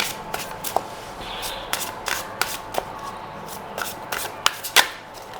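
Tarot cards shuffled and drawn from a deck: a run of quick, crisp papery flicks and slaps, close and fairly soft, scattered irregularly with brief pauses, no voice over them.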